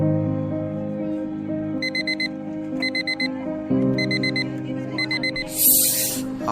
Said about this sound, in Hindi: एक काम करता हूँ 4 बजे का अलार्म सेट कर देता हूँ,